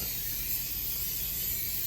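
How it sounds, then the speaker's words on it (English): A steady, continuous hiss of cooking spray being sprayed into a crockpot for lasagna, close and even, lasting the full couple of seconds with no talking. "Let me spray this first, y'all."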